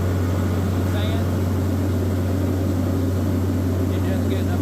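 The engine of a water well drilling rig, running hot at 220 degrees oil temperature, drones steadily with a strong low hum and constant mechanical noise, with faint speech beneath it.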